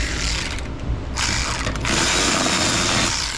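Ratchet socket wrench turning a bolt on the fuel system of a Hummer H1 Humvee with a 6.5 Detroit diesel, giving a steady run of close, loud mechanical ratcheting clicks with a short pause partway through.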